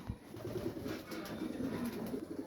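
A racing pigeon coos softly and repeatedly at close range, the low, throaty calls quiet against a faint background.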